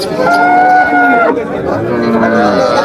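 Cattle lowing repeatedly at a busy livestock market in Netrokona, the moos loud and close with rising and falling tones, layered over the steady hum of the crowd.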